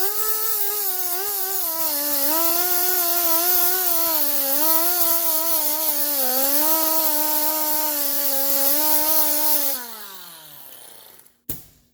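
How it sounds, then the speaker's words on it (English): Angle grinder cutting into a wheel lock bolt on a Fiat 500, a loud sustained high whine that wavers in pitch under load for about ten seconds, then spins down and stops with a sharp knock at the end. "Okay, so grind away."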